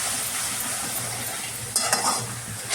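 Chicken curry masala with fresh coconut is stirred and fried in a pan, a steady close sizzle with scraping spatula strokes that grow briefly louder near the end.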